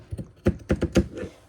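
Pinking shears chop through canvas fabric in a run of separate crunchy snips, five or so uneven cuts close by, with no voices.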